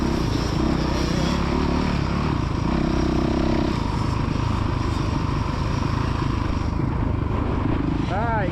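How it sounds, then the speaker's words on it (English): A kids' motocross bike revs and drones on a dirt track, its engine note rising and falling at a steady distance while an adult voice calls out over it. "Right, get it revving now."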